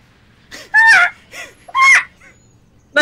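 Two loud, harsh crow-like caws in quick succession, close and alone, with a third call just starting at the end; the calls come from large birds in a cliffside deep-forest setting.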